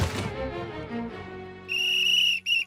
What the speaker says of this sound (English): Is that the come back and kick me whistle?